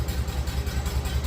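A 1951 Farmall Cub tractor engine idles with no throttle hooked up, a steady low chugging pulse with even rhythmic beats, close and fairly loud.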